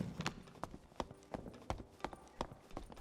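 Player footsteps in the dark fantasy dungeon game Dark and Darker approach as a series of sharp, evenly spaced thumps, roughly two or three per second, mid-distance and clear over a quiet ambient bed.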